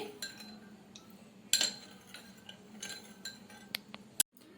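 A spoon stirs milk mixed with a yogurt starter in a bowl for homemade sour yogurt, with quiet scraping and a handful of light metallic clinks against the bowl.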